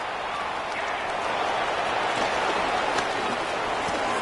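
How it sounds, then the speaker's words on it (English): Steady rain hissing down over an outdoor football game, a broad, even wash of noise throughout with faint crowd texture and no clear voices. "The rain set to continue as we are underway in the second half."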